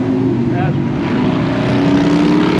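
A 1994 Honda Goldwing trike idles close by with a steady low engine drone throughout, and a faint tone drifts slightly in pitch.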